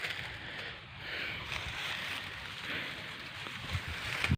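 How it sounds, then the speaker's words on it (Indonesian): Strong wind buffets outdoors during a dry-season bird hunt, a steady broad roar with gusty surges and rumble throughout, loud and close with no talk. "Anginnya sangat kencang, teman-teman."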